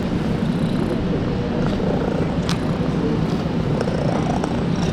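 A stray cat purrs steadily while small hands pet it, a low continuous rumble close by with a few faint clicks and rustles and no talking.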